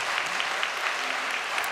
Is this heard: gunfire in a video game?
no